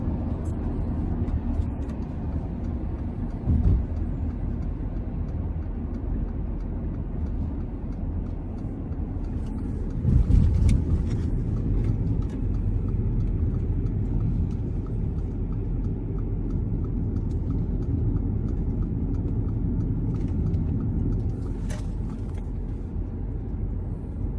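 A Mercedes-Benz B180 car fitted with an IEMS fuel-saving device drives along with a steady, low engine and road rumble. The drone holds constant for the whole stretch, with a couple of brief louder thumps.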